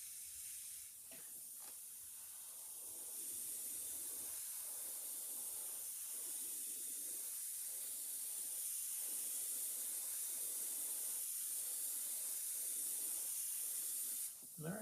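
An airbrush sprays paint onto a fishing lure with a faint, soft, continuous hiss, broken by short, regular pulses of spray.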